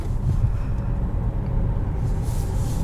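A 2021 Buick Encore Preferred SUV on the road gives a steady low rumble of engine and tyre noise inside the cabin, even and unbroken, with no one speaking.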